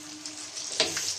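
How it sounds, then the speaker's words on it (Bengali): Chicken pakora sizzles steadily in hot oil in a home kitchen, a close, continuous frying hiss with a brief louder crackle partway through. "ভাজা হয়ে যাচ্ছে"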